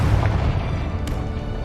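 Confringo blasting spell explosion in the video game Hogwarts Legacy, a deep rumbling boom that stays loud and dense across its short length, with a faint pop near the end.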